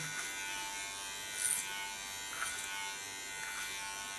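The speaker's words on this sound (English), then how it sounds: "so now I go clipper over comb." An electric hair clipper buzzes steadily at close range while cutting hair over a comb during a short platinum blonde haircut, with small swells as it moves through the hair.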